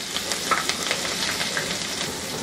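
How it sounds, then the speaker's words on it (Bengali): Chopped onions and chilli slices frying in oil over medium heat, giving a dense, even sizzle with small pops scattered across the whole stretch and no talking. "পেঁয়াজগুলাকে আমি এখন মিডিয়াম হিটে ভাজছি"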